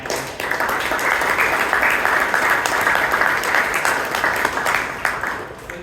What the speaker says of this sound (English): Please give a big round of applause for our president.